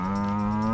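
One steady, sustained cow moo, loud and close, with a deep harmonic tone held for the whole short moment.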